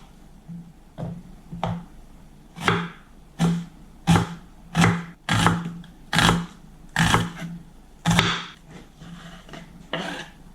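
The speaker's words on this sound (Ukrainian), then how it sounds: "Одну невеличку червону цибулю нарізаю напівкільцями." Repeated sharp cutting strokes of a knife slicing a small red onion into half-rings on a board, about a dozen crisp chops at a steady, unhurried pace, close and alone.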